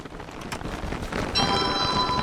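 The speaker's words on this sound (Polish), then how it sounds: "Czemu cały czas pada?" Steady rain falling in the video game Don't Starve, a dense even hiss of drops with no talk, growing a little louder and fuller partway through, where a faint thin high tone also rises in.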